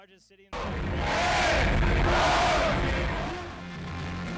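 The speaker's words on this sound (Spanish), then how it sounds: "En punto de la medianoche dio inicio el espectáculo de fuegos artificiales y luces de colores" A large crowd in Mexico City cheers and roars at midnight as New Year fireworks begin, a sudden loud swell of shouting and whoops that stays dense and close before easing slightly toward the end.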